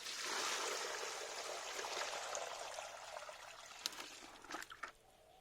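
Water pours out in a steady splashing stream that slowly thins to a trickle, ending with a few drips and light knocks.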